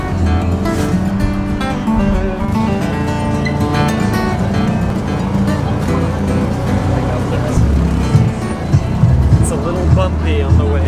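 A tuk-tuk auto rickshaw climbs a bumpy, potholed road toward the rock at Guatapé, Colombia, its engine droning loud and steady with rattles and jolts throughout, under a voice talking.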